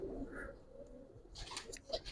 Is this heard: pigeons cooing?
yes